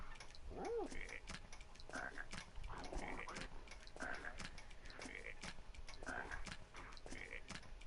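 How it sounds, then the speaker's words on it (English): A cartoonish frog croak from a PS4 video game, repeating in short bursts about once a second over game music and other effects. "And I turned into a frog because I got the bad one."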